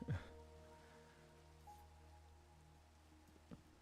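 Rain falls in the video game Minecraft as a faint, steady patter under a soft bed of sustained music tones.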